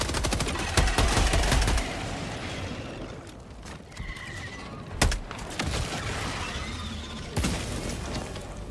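Gunfire in Helldivers 2 as players shoot at a large bug, with dense bursts of shots early on, then sporadic loud blasts and impacts over busy game noise and creature cries.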